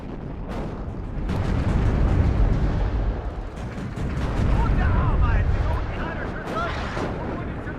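Artillery counter-battery fire in the WARNO war game rolls in as continuous heavy, rumbling booms and swelling explosions, with talking over the top.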